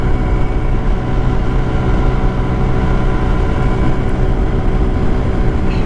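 An icebear Hawkeye 150cc scooter engine held at full throttle while riding, a steady loud droning roar with constant wind rush, unbroken and without speech.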